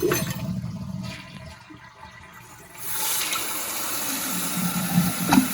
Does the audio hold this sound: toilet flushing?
yes